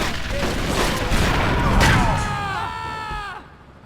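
Enemy assault rifle fire in Grand Theft Auto 3 erupts in a loud, dense burst of shots and impacts, then fades out with a ringing tail.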